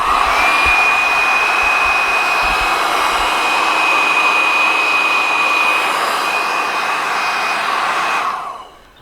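A heat gun shrinks wrap onto the fork of a Honda CRF250 motorcycle, giving a loud, steady blower roar with a thin whine running unbroken for about eight seconds before cutting off.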